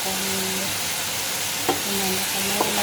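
Green and red capsicum stir-fry in a hot pan for sweet and sour pork, giving a loud, steady sizzle throughout with a couple of brief clinks and a faint voice murmuring underneath.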